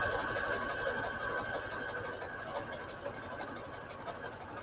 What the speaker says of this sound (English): Let me make a zigzag this time. I'm going to make it a very wide zigzag.